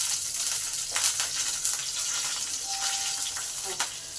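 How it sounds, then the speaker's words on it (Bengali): Garlic frying in a pan of oil with already-fried ajwain, cumin and chilli, a steady crackling sizzle at moderate level throughout with a few brief clinks; no talk. "রসুনটাকে দিয়ে দিলাম। এটাকে একটু লাল লাল করে ভেজে নিতে হবে।"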